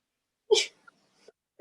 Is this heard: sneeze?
yes